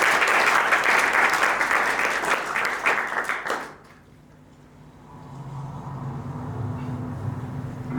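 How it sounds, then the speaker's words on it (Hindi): A theatre audience gives loud, dense applause after an acting monologue. The clapping fades out after about three and a half seconds, and a quieter low hum of the room follows. "कैलाश, जोरदार तालियां उनके लिए।"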